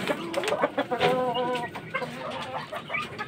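A chicken calls close by in a rapid run of clucks and a drawn-out squawk over busy farmyard background sound.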